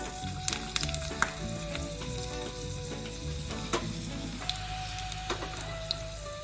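Steady, dense sizzling of garlic frying in hot ghee, with scattered small pops and crackles throughout, close and continuous.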